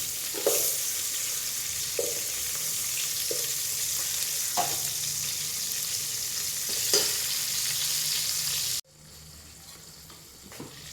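Onions, both small shallots and a quarter of a large onion, fry steadily in a pan for a fish curry, with a constant close sizzle and occasional stirring clinks before the sound drops sharply near the end.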